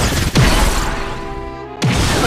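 A loud crashing impact from the rolling shot special kick in Inazuma Eleven Strikers, a sharp burst that fades and is followed by a second strong hit.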